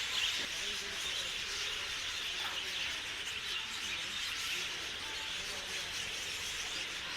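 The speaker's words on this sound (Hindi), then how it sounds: "सुबह सुबह ही इनकी चहचहाट आप सुन सकते हैं। कितना प्यारा सा आवाज़ आ रही है ना।" Birds chirp and tweet steadily in the morning at Mysore Zoo against a bright outdoor background, with a person talking over them much of the time.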